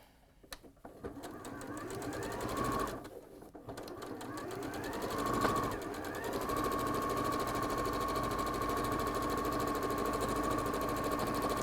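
Sewing machine stitching fabric rectangles together for a button bag runs in a rapid, even needle chatter, pausing briefly twice before settling into a long, continuous loud run close by.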